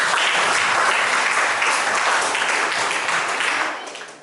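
Lecture-hall applause from students at the close of a nursing class, a dense, continuous burst of many hands clapping together that holds steady and then fades out at the end.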